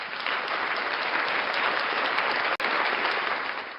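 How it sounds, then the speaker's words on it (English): Audience applause at a live show, a dense, steady wash of clapping that fills the whole stretch and breaks off for a split second near the end. "So applaud each and every fan base"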